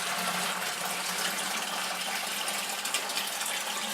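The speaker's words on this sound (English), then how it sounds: "we're going to pour the water in." Water poured from a marked 2-gallon container into a brine shrimp hatchery system, a steady broadband gush that runs continuously and fairly close without pauses, with no talk over it.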